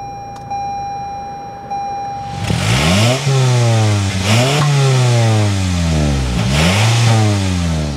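A 2024 Toyota Camry LE 2.5 liter engine cranks and starts after a quiet interior hum with a chime, then is revved three times, each rev climbing and falling back to idle, close and loud from the exhaust.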